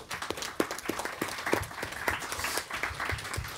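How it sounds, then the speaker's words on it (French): An audience at an economic panel session claps briefly, a fairly faint patter of hands from a modest crowd that tapers off after a few seconds. "Je pense qu'on peut l'applaudir."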